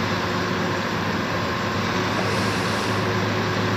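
A Volvo truck with a manual gearbox drones loudly and steadily from its engine, a deep, continuous rumble with a faint high whine and no talking.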